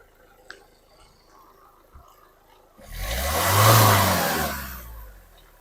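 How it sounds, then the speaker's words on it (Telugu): A 2013 Nissan Sunny XL diesel car engine revved once, rising from a quiet idle with a few clicks into a swelling mid-pitched roar that peaks and then falls back, heard up close. "నీట్ అండ్ సైలెంట్గా ఉంది ఇంజన్"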